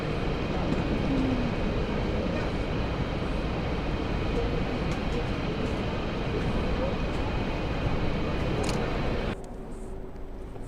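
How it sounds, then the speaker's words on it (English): Train at a Munich railway station, a steady rumbling drone with a faint high whine, heard up close before the noise drops suddenly near the end. "See the train behind me? Get it? Because it's a train station that I'm at."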